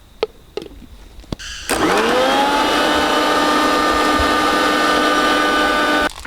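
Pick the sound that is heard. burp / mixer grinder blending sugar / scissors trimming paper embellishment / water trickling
mixer grinder blending sugar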